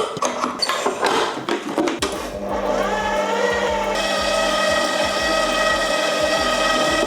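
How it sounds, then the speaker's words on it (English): A KitchenAid stand mixer kneads pretzel dough, starting with a few clattering knocks before settling into a loud, steady motor whine with a rhythmic churning beneath it, close by and without talk. "we're going to be using the trusty KitchenAid to mix and knead this dough"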